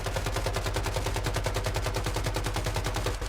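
Rapid automatic gunfire from the Once Human video game with a shrapnel-build rifle, a fast, even stream of loud shots running without pause for a few seconds.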